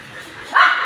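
A dog raised from a puppy gives a short yipping bark that rises into a whimper, close and fairly loud, lasting under a second after a faint murmur.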